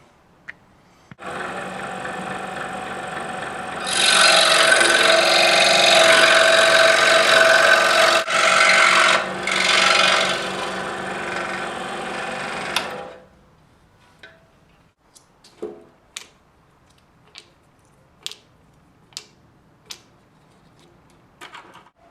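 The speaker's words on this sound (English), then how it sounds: "So I'm going to cut it out on my scroll saw." A scroll saw cuts a 1-inch wooden circle close by, with a steady buzzing hum that runs for about twelve seconds and grows louder in the middle, then stops, leaving scattered light clicks and taps.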